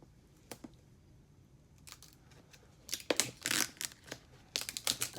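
Packaging on a box being cut open, with faint scattered snips at first, then louder bursts of crinkling, tearing and cutting close by, with no talk.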